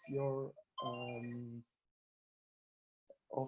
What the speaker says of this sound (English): there was some phone calls that I cannot manage because I am not in my own office